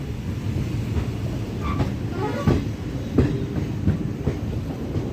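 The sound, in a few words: passenger train running on tracks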